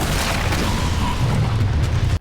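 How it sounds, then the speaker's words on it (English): A loud explosion in a horror film scene, a dense sustained roar with heavy low rumble filling the whole span before cutting off abruptly. "After the explosion, I was dizzy and disorientated"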